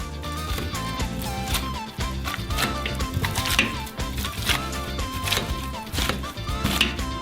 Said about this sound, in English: And with the help of a potato masher, we knead the potatoes.